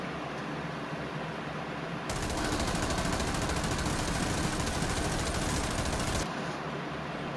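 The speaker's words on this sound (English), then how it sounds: "I accidentally shot him! Oh no, I accidentally shot my guy!" Rapid automatic gunfire in America's Army: Proving Ground rattles out as one sustained burst of about four seconds, loud and close, framed by quieter ambient game noise before and after.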